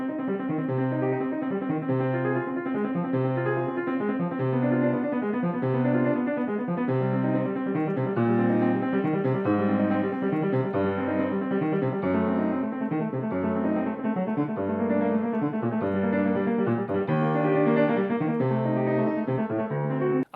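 Bach's BWV 999 prelude played on piano, a steady motoric stream of broken-chord figures repeating in even rhythm, moderately quiet and unaccompanied throughout.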